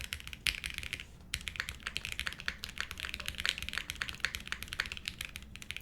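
Close-up typing on a Space80 Apollo mechanical keyboard: quick, continuous clacky keystrokes in an even rhythm after a short gap near the start, with no voices.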